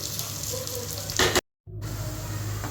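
Ground masala frying in a pan for chicken sukka hisses with a steady sizzle while it is stirred. One scraping swell comes just before a brief break, and then the sizzle carries on evenly.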